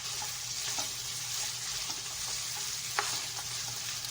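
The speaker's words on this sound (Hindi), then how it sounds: "ये देखिए हमारा गोश्त जो है वो लहसुन अदरक के साथ हम इसको भून रहेंगे थोड़ी देर के लिए।" Mutton frying with garlic, ginger and onion in a pan, an even, close sizzle with occasional soft stirring clicks and one sharper knock.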